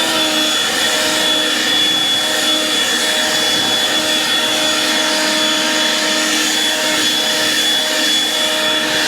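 A Husqvarna 536 LiB battery-powered leaf blower running continuously, its loud, steady, airy whine and fan rush close by with a constant high tonal pitch and no letup.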